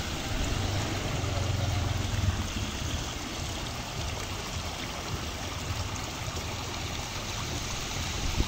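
Steady, dense rush of floodwater after Cyclone Fengal in Achchuveli fills the whole clip, a continuous broadband roar with low rumble and no voices.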